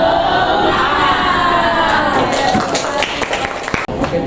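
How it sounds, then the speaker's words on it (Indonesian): A classroom of children claps a rhythmic cheer of encouragement for classmates. Loud crowd voices and shouting fill the room, with the clapping growing into sharp, dense taps toward the end. "Oke, kita beri tepuk semangat."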